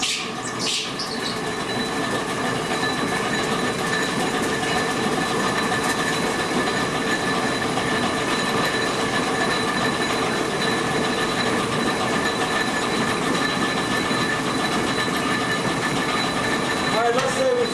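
Old textile mill machinery runs in a continuous, loud mechanical roar with a steady clattering drone and metallic whine throughout. A voice speaks over the machinery.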